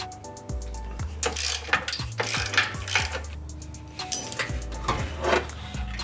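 Ratchet wrench clicking in repeated bursts while loosening the eight front crash bar bolts on a 2015-2017 Subaru WRX during a Perrin front-mount intercooler install, close and fairly loud, with metallic clinks between strokes and no talking.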